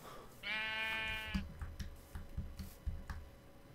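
A Minecraft sheep gives one drawn-out bleat, near and clear, followed by a run of soft irregular clicks and taps from gameplay.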